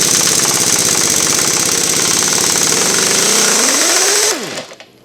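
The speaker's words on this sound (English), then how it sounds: "I think I put the impact hammer on them." A pneumatic impact hammer running on air power loosens bolts during a Columbian #206 vise restoration, giving a loud, continuous rapid hammering that holds steady for about four seconds and then winds down abruptly.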